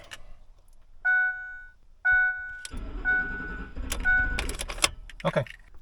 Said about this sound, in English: Now we're going to crank the truck.